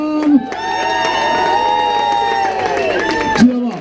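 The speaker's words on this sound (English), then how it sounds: "Brian and Groom are raring to go, so I think they deserve a massive round of applause." Wedding guests on the dance floor cheer and whoop for the bride and groom, a loud, sustained crowd roar of voices with light clapping, swelling and then tapering off.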